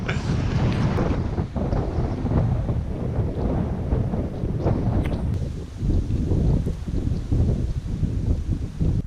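A strong headwind batters the microphone while cycling in a cyclocross race, producing loud, continuous low buffeting and rumbling gusts that fill the whole stretch with no talking.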